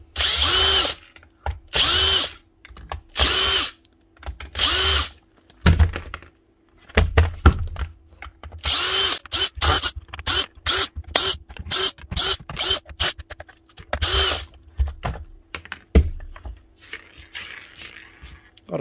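A power drill whirs in repeated short bursts, pausing between each, as screws are backed out to open an old Black and Decker saw on a repair bench, with occasional clunks and handling knocks in between.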